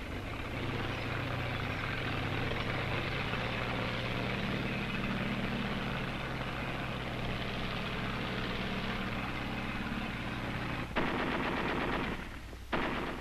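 Sustained machine-gun fire and gunfire from the 1944 battle for Guam, with the 4th Marines advancing on the airfield under fire from high ground. Dense, continuous rattling bursts fill the scene, with a sharp louder burst near the end.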